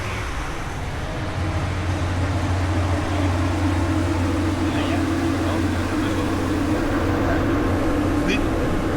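Continuous droning hum of engine-space machinery aboard the sailing ship Esmeralda, a steady loud mechanical tone with broadband noise, constant throughout with voices over it.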